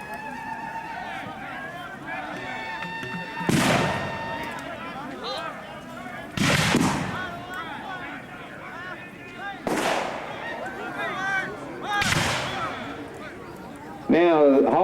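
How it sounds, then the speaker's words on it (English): Mortar artillery fire at an 1812 battle reenactment in Marion, Indiana: four loud, sharp booms arrive a few seconds apart and stand out over a steady crowd murmur, with a narrator talking throughout. "the thing you just heard firing was called a mortar."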